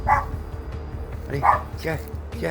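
Dog Olaf, a small deprived rescue dog, lets out several short barks and yips in irregular bursts close by, with someone talking encouragingly between them.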